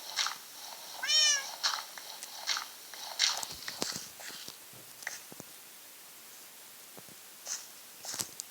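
A cat meows a few times in a quiet indoor setting, one long sliding meow standing out near the start, followed by soft shuffling steps and small clicks.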